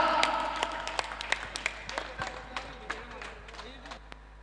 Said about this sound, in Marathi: पब्लिकला सुद्धा विनंती असेल की टाळ्यांचा गजर झाला पाहिजे.